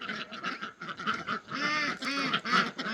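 Ducks and geese calling in a barnyard on a farm, a run of nasal honks and quacks, fairly close and overlapping, rising into a louder cluster of harsh calls midway through.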